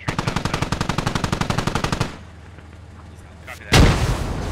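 A tank cannon in a video game fires one loud, booming shot near the end, after a quieter stretch that follows a long, rapid rattle of machine-gun fire.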